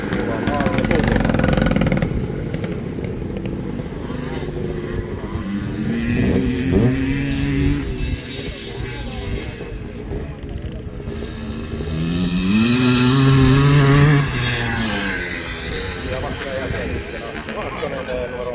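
Classic motocross motorcycles race toward the finish at a Rauma event, their engines rising and falling in pitch as they rev through the final corners, moderately near, under continuous commentary from an announcer.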